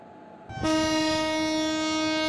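In an Indian train simulator game, a train horn sounds after a brief rumble and then holds as a loud, steady multi-tone blast over the rolling noise of an arriving train.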